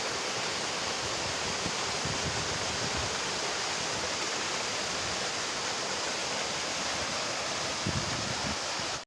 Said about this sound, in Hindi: देखिए काफ़ी पानी बढ़ चुका है पहले के मुकाबले।